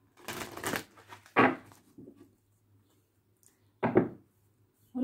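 Tarot cards being shuffled by hand, a few short papery riffling bursts close by, separated by quiet gaps.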